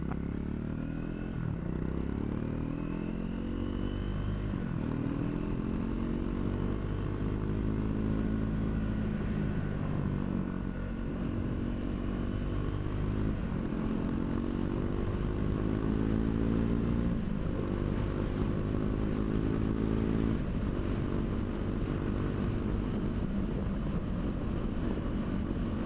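A Triumph 400X Scrambler motorcycle fitted with new sprockets cruises along a road, its engine a steady low drone with rising and falling tones as the rider shifts, loud and continuous with wind rumble.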